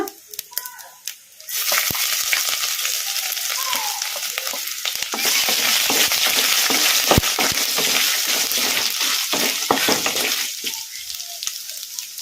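Potato and rice ingredients frying in a pan, a loud continuous sizzle that starts after a short quiet opening, with occasional stirring scrapes, then fades near the end.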